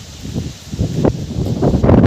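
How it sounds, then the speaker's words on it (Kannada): Gusty wind buffets the microphone in uneven bursts, rustling and rumbling close up, growing stronger toward the end. "ಗಾಳಿ ಭಾಳ ಬಿಟ್ಟೈತಿ ಕೇಳೋದೆ ಸೌಂಡ್"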